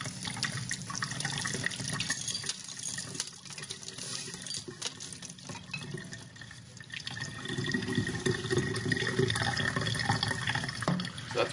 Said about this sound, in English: I'm going to pour some cold water over this